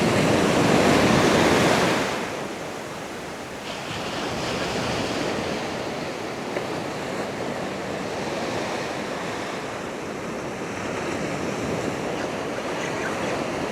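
Ocean surf breaking on a New Jersey beach at low tide, a loud wash of waves for the first two seconds easing into a steady roar mixed with wind noise, no voices.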